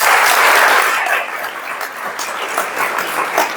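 Audience applause at a college motivational talk organised by a psychology department, a loud burst of clapping that gradually thins and fades over a few seconds.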